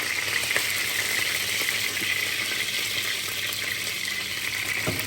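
Chopped onion hitting a hot pot after browned meat has been removed, a loud, steady, close hiss of frying with faint crackles and no talking.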